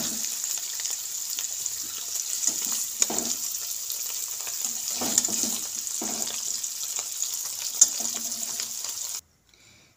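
Paneer shallow-frying in hot oil, a steady close sizzle with soft crackles and a few faint stirring scrapes, no voices, cutting to silence just before the end.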